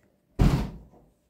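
A kitchen door is shut once with a single solid thud and a short rattling decay, with nothing else around it.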